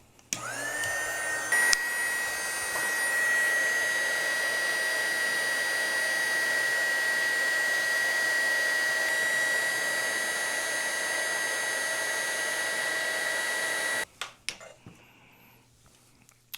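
A heat gun shrinking heat shrink tubing over a car wire, a loud steady blowing roar with a constant whine that runs unbroken for most of the clip, then cuts off, followed by faint handling sounds.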